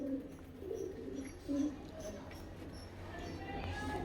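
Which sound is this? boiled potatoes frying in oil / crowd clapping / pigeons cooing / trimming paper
pigeons cooing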